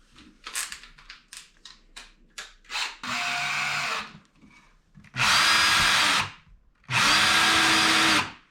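A power drill fitted with a metal bit bores into wood while building a skate ramp, running in loud sustained bursts of about a second each after a series of short clicks and knocks, close to the microphone.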